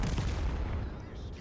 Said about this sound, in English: I'm about to fire the shell that will eventually ammo rack him.